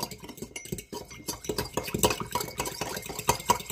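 A spoon stirs a drink of lemon, apple cider vinegar, pepper, ginger and turmeric in a glass, giving rapid close clinks and scraping swirls in a steady rhythm.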